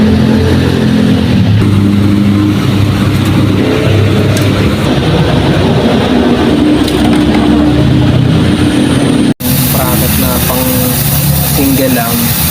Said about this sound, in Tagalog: Ito yung motor namin, Honda TMX 125.